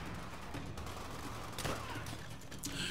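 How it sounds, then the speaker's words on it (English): Rapid bursts of gunfire in a shooting video game, crackling shots layered over steady background noise, with a couple of sharper reports standing out late in the stretch. "Stop shooting me! I will shoot back!"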